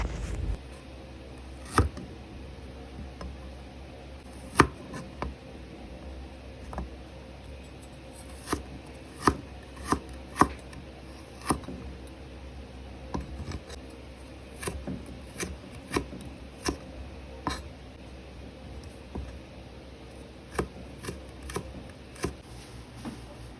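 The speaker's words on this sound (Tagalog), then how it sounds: "Hiwain naman natin ang luya ng palito style." A knife slices ginger into thin matchstick strips on a board, a run of crisp, irregular taps and cuts with short pauses, close and fairly quiet over a soft room hum.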